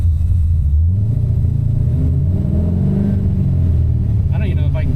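An LS-swapped Mazda RX7 V8 under Holley Terminator X tuning held near 5500 rpm, a loud, sustained engine drone with a wavering pitch, close and continuous.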